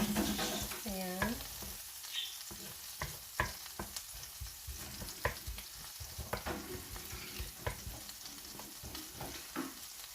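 Garlic cloves sizzling in a frying pan until light brown, a steady crackling fry with repeated scrapes and stirs of a utensil against the pan, close and continuous throughout.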